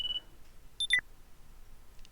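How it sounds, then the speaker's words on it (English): A phone ringing in a visual novel game: a short bright electronic beep followed by a quick rising-falling chirp of tones, close and clear over a quiet background. "I wake up to the sound of my phone ringing."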